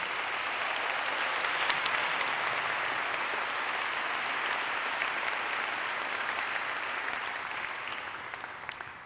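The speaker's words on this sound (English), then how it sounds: "I think that deserves another round of applause." An audience at a school National Honor Society ceremony applauds in a steady wash of clapping, moderately loud and even throughout, fading away over the last second or so.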